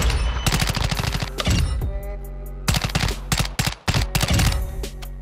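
The Chimera rifle in a shooter video game fires close, loud bursts of rapid rounds, with several clusters of shots broken by brief pauses.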